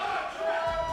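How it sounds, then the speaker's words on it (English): A crowd at the Deadman Winter Finals 2017 event cheers and shouts in a sustained, fairly distant roar, with a voice speaking over it. "Oh, they're cheering for me."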